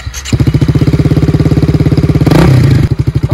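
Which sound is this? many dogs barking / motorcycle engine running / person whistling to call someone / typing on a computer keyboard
motorcycle engine running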